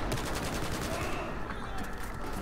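Battlefield 4 gunfire plays as a dense, continuous fusillade of overlapping shots and bursts, loud and steady from start to finish, with faint voices mixed underneath.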